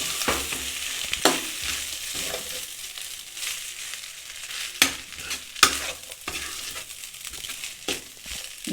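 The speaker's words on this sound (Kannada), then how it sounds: "ಸ್ವಲ್ಪ ಚೆನ್ನಾಗಿ ಮಿಕ್ಸ್ ಮಾಡೋಣ" Tomato rice is stirred in a frying pan for a hotel-style tomato bath, with a steady close scraping and sizzle broken by several sharp spoon knocks against the pan.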